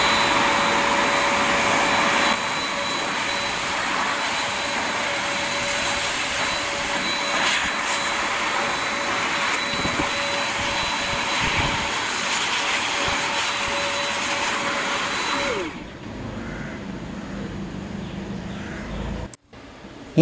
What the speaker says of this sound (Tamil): ப்ளோவர் மோடை ஆன் பண்ணி இப்போ நான் யூஸ் பண்ணுறேன்